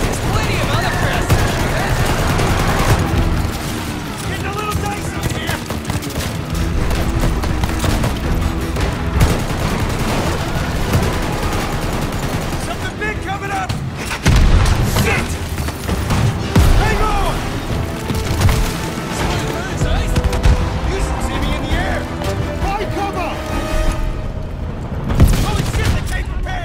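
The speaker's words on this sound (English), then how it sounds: "Artillery!" Heavy artillery explosions in a Call of Duty Vanguard battle, with booms and rolling blasts that continue for nearly half a minute, mixed with gunfire bursts and faint shouting voices underneath.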